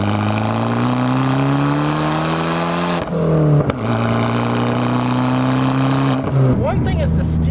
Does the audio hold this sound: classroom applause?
no